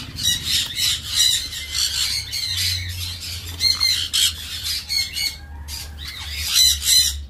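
A sun conure parrot squawks loudly and repeatedly in harsh, rapid bursts, close by and almost continuous, with a low hum underneath.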